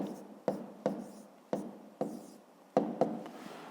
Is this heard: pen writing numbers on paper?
yes